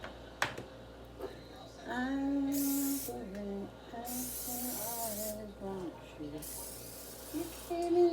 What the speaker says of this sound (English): It's important to spray it because if you don't, it's going to stick.